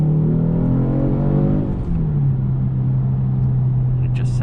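2021 Genesis G70 3.3t accelerating: a loud, close engine note rising in pitch, then dropping as the gears shift, with a steady, throaty drone carrying on afterward.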